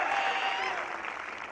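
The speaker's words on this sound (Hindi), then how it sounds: "एक बार इनके लिए ताली बजा दीजिए।" An audience at a live comedy and music show claps for the musicians, a brief, steady burst of crowd applause that fades slightly.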